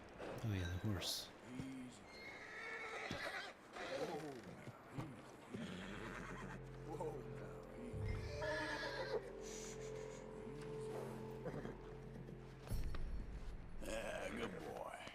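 A horse in Red Dead Redemption 2 whinnies with a rising, wavering call, followed by a long sustained tone and some hoof clatter, with speech mixed in around it.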